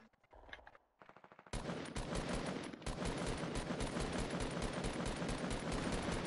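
Dense automatic gunfire from a Fortnite match, loud and continuous after a quieter opening with a few scattered shots, rapid bursts layered over one another with no pause.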